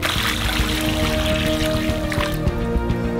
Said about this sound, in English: Pour 4 liters of water on top